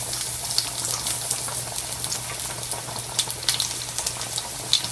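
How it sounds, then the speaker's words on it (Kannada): Chopped onion sizzling in a spoonful of oil in a pan, with a steady fizzing crackle and a low hum throughout, some sharper pops standing out near the middle and end. "ಈ ಪ್ಯಾನಲ್ಲಿ ನಾನು 1 ಸ್ಪೂನ್ ಅಷ್ಟು ಎಣ್ಣೆ ತಗೊಂಡಿದ್ದೀನಿ. ಇದಕ್ಕೆ ನಾವು ಸ್ವಲ್ಪ ಈರುಳ್ಳಿ ಹಾಕೊಳ್ಳೋಣ."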